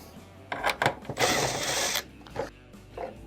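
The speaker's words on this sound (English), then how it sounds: "you're going to use a 1/4-inch bit here and take off these screws right in the center" A driver with a 1/4-inch bit backing screws out of a dryer panel, giving several whirring, ratcheting bursts, one longer spin in the middle, and a few short clicks afterward.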